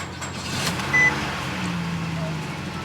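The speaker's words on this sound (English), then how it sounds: "So let's see how well it starts and how well it runs." A used car's engine starting and idling, a steady low rumble with broadband noise running throughout at moderate level and a brief tonal chirp near the start.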